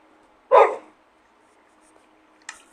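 One sharp, close Minecraft dog bark stands out against silence, followed a couple of seconds later by a fainter short yip.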